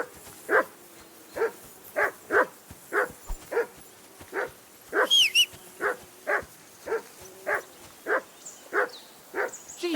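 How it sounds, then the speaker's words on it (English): A dog barks repeatedly in Kingdom Come: Deliverance 2, a steady run of sharp, evenly spaced barks close by, with faint ambient background and no talking. "that barking's driving me nuts. Can you get your dog to shut its beak?"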